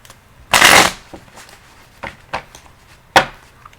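Tarot cards shuffled up close in one loud, brief riffle, followed by a few sharp taps and snaps as the deck is squared.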